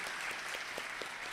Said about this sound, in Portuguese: Palmas para o meu cartaz